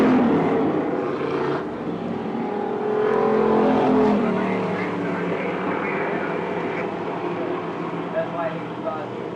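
Street stock race cars circling a quarter-mile Midwest speedway, Paris Speedway, during a heat race: a continuous roar of engines swells as the pack passes nearer, then eases back, with an announcer talking over it.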